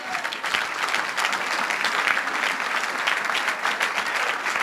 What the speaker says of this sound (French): On acclame Jésus de Nazareth